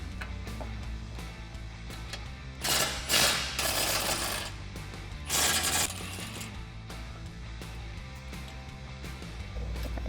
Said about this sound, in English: So I'm gonna take that 21mm socket, remove those side bolts, and then we'll remove the bottom bolts.